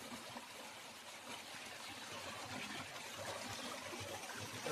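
A small Konkan stream flows and trickles softly, with a faint, steady babble of water and no voices over it.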